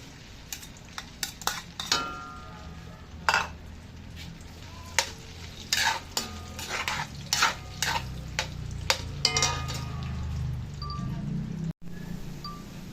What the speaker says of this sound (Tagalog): Lutuin muna natin po ang chicken balls. Piprito ko muna po.